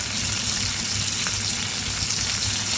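Onions caramelizing in a hot pan on a stovetop while a steak is prepared, giving a steady, dense sizzle and frying crackle that runs unbroken and fairly loud throughout.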